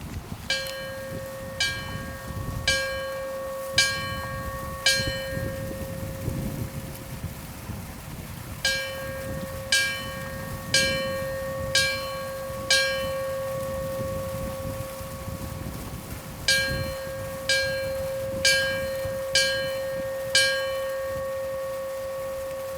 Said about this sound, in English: we are going to take a moment to honor those lost on 9/11 with the ringing of the bell